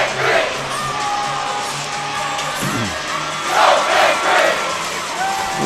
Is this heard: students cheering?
yes